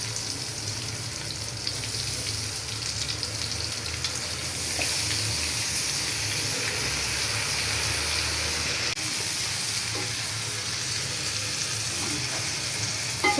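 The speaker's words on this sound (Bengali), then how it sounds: "সুন্দর করে নাড়াচাড়া দিব চাউলটা" Rice frying and being stirred in a pan while making basanti pulao, a steady close sizzle with scraping stirs running throughout, no voices.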